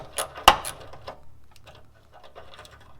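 Socket wrench loosening a bolt on a fifth-generation Toyota 4Runner during a rock slider install, giving a few short metallic ratcheting clicks with one sharp louder click near the start, close by and without talk.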